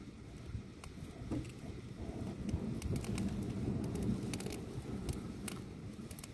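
Strong wind buffets a beach campsite at Praia da Capilha, a steady broadband roar with gusting swells, faint bird calls and small clicks scattered through it, with no talk.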